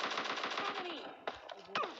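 Rapid automatic gunfire rattles in a fast continuous burst in the video game PUBG, then a few separate sharp shots follow, with game-like sound effects.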